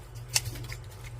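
Kitchen scissors prying open a raw oyster at a sink make a single sharp snip against the shell, heard over a steady low hum of running water in a quiet kitchen.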